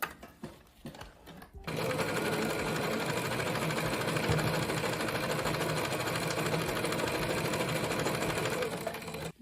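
A sewing machine stitches bag lining fabric in one long, steady run, with a close mechanical whir after a few seconds of quieter handling noise.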